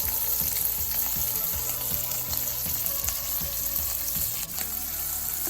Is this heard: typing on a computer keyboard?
no